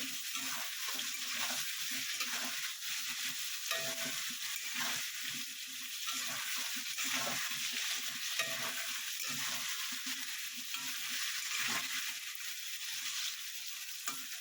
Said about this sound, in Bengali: এইভাবে একটু ভাজা ভাজা করে নেব।